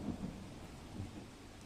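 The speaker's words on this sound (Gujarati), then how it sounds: "વીજળીના કડાકા ભડાકા સાથે મુશળધાર વરસાદ વરસ્યો।" Thunder with heavy rain during a downpour in Dwarka's Kalyanpur, Gujarat, a low rumbling roll over a dense, steady rain wash, fairly faint and distant, with no voices.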